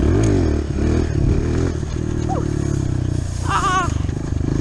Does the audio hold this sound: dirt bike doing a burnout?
yes